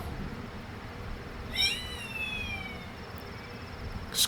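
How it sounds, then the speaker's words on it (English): A red-tailed hawk cry from the Sunless Skies video game, a single shrill descending scream heard once over a low background rumble, fairly faint. "That's the sound of a red-tailed hawk."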